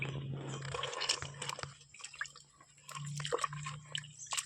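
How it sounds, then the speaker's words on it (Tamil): Overripe, partly rotten brinjal fruit mashed by hand in water to free the seeds, giving wet squelching and dripping sounds that recur across the clip, fairly quiet and close, with a steady low hum underneath and no talk. "இப்போ அந்த பழத்தை வந்து தண்ணியோட கரைச்சிடுறோம்"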